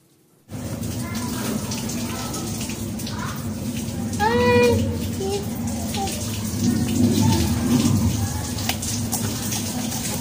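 Running water pours steadily while dirty plant pots are washed beneath it, a continuous close splashing hiss with brief faint voices mixed in.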